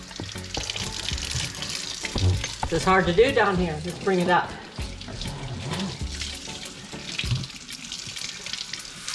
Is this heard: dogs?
no